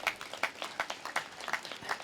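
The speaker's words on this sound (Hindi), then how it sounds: "आप जो धूप में बैठे उनके लिए जोरदार ताली बजा दो।" A crowd at an outdoor religious assembly bursts into rhythmic clapping, a steady run of sharp, evenly spaced claps carrying on without any voices over it.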